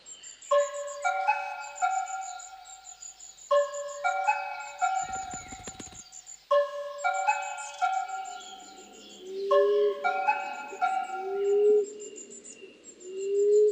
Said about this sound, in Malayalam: ഇവിടെ ഒരുപാട് പക്ഷികളുണ്ട്